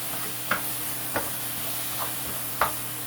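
Chicken sizzling in a hot pan for oyakodon, a steady close frying hiss with four sharp scrapes of a utensil stirring the meat at irregular intervals.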